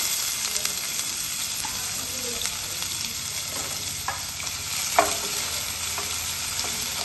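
Chopped onions sizzle steadily in hot oil with whole cumin and three dried red chillies while being stirred, giving a continuous close, dense frying hiss with faint scraping and clinks of the stirring utensil.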